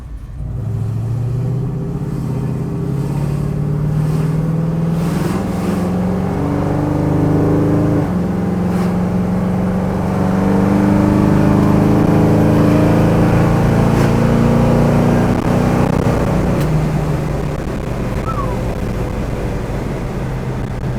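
A 1969 Ford Mustang Mach 1 with a built 351 cubic-inch engine drives along, its deep exhaust rumbling steadily from inside the car with rising and falling revs as the throttle changes.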